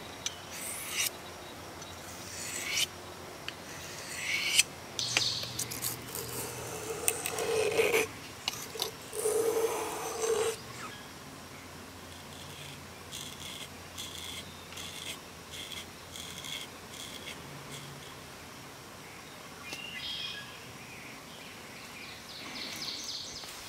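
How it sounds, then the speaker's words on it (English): An old rusty pocket knife scraped across a sharpening stone in irregular, soft rasping strokes, fairly quiet and close, with a few louder scrapes and clicks in the first half and gentler rubbing afterward. "I generally like to sharpen with the stone in a vise."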